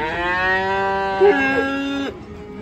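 A young bull calf at a livestock bazaar lets out one long, loud, drawn-out moo close by, holding steady before dropping in pitch and cutting off, with crowd murmur behind.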